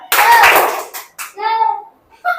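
Children in a classroom do a quick rhythmic spirit clap, several sharp hand claps bursting together close up, followed by kids chanting in unison.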